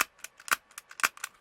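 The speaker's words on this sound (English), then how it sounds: "this is the noise of the hammer hitting just the metal without the slide" The hammer of an MK23 airsoft pistol snaps against bare metal with the slide off and no foam, making several sharp, close metallic clicks in an uneven rhythm, each one brief and crisp.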